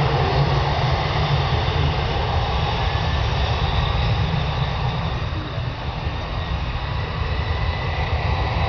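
A steady, loud, broadband roar from a Gulfstream G2 jet's engines during takeoff, droning continuously with little change and a slight dip partway through.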